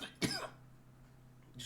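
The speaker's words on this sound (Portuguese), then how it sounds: "Desculpa pela tosse." A single sharp cough bursts out, followed by quiet room tone and a faint start of another sound at the end.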